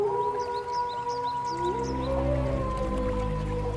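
A wolf in an animated film lets out a long, sustained howl that slides in pitch over a deep rumbling music bed, with softer chirping calls scattered above it.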